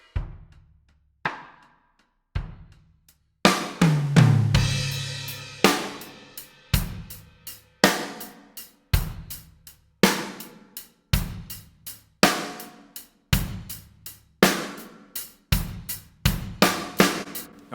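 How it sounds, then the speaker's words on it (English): A full drum kit played with brushes, steady groove of soft swishes and crisp snare and cymbal hits over kick thumps, loud and close with a fuller fill near the start, no talking. "alright, so that's the sound of the full drum set."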